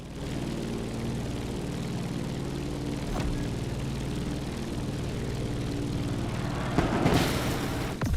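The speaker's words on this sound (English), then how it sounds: "Let's start our descent and get ready for the landing." A propeller airplane in The Crew Motorfest descends toward a landing at Honolulu, its steady engine drone running evenly throughout with a brief rising swell near the end.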